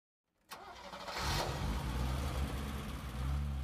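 A car engine turns over and builds into a rising, revving roar that grows louder and then holds at a steady, close, mid-pitched drone.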